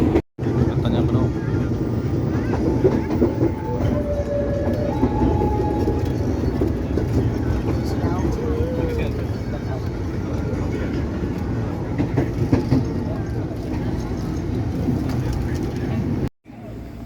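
A commuter train (KRL) near Citayam, Indonesia, rumbles steadily on the rails from inside the carriage, with a constant low roar and occasional faint rattles throughout.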